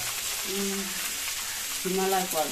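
Shredded cabbage fries in a pan with a steady, close hiss of sizzling, while brief voice-like tones rise faintly over the cooking.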